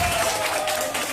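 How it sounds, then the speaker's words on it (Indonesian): A crowd gathered for a Nuzulul Qur'an commemoration at an Islamic boarding school claps together, a dense, even patter of hands close by with a faint tone underneath. "Tepuk tangan."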